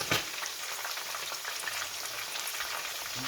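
Garlic frying in a pan while sea bream cooks, a steady crackling sizzle with dense spitting pops, close and fairly loud throughout, no voices.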